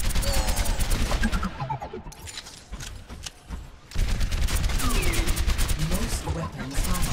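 Rapid gunfire against training robots in the Overwatch beta tutorial, dense bursts of shots that pause briefly midway then resume, with in-game voice speaking over the shooting.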